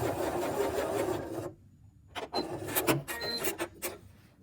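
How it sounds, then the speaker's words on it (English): A sewing machine stitches down a folded-over fabric edge on a button-down shirt, running in a steady close whirring burst, pausing briefly, then resuming in short stop-start runs with back and forward stitching. "I'm sewing this edge that we folded over before down all the way to the end, back stitch, and then forward stitch"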